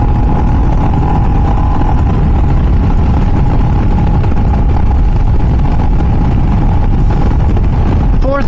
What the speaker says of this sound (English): Going through the gears.